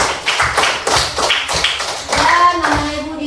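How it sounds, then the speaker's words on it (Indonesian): A small group claps hands for group 3 after a classroom Qur'an presentation, loud close claps in uneven bursts with a faint voice briefly audible. "mari kita berikan tepuk tangannya."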